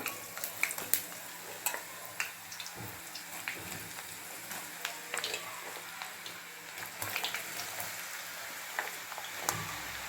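Peanut masala snack frying in hot oil over low heat, faint bubbling and sizzling with scattered light clicks and taps, no talk.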